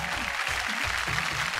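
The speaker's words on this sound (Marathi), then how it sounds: "जोरदार टाळ्या" Loud, steady applause from a studio audience at a Marathi women's game show, a dense wash of clapping with a faint voice underneath.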